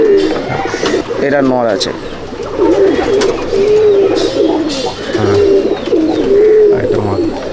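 Old bloodline Madrasi racing pigeons coo repeatedly in a loft at Rajarhat, Kolkata, the soft rolling calls coming close and in bursts while people talk over them.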